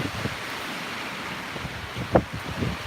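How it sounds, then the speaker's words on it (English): Strong wind from Hurricane Dorian roars in a steady, loud rush with a low rumble underneath, buffeting the microphone and swelling in brief gusts, with no voices. "Can y'all hear the wind blowing?"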